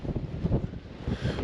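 Wind gusts buffet the microphone on a Scottish Munro summit, a rough, uneven rumble rising and falling in loudness with no talk.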